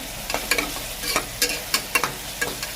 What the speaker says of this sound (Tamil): தக்காளி எடுத்து வச்சுட்டு கொஞ்சம் நேரம் வதக்கி விடுங்க ஃப்ரெண்ட்ஸ்